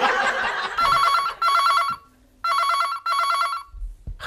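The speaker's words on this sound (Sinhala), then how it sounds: "අපේ හොඳ වෙලාවට කෝල් එකක් ආවේ" An old-style telephone bell rings with an incoming call in two pairs of bright, trilling bursts with a short gap between each pair, close and fairly loud.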